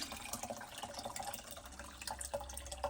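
Water poured into a pitcher while making sweet tea, a soft continuous splashing trickle heard close up and fairly quiet, with no talk.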